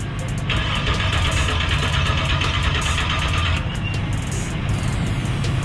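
A candy red donk car sits on a tow truck with its engine running, a loud steady mid-pitched idle with a constant rough rumble throughout and no voices.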